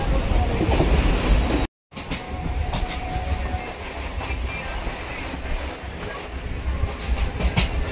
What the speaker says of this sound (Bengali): এই মুহূর্তে আমাদের ট্রেন প্রবেশ করছে বরানগর রোড।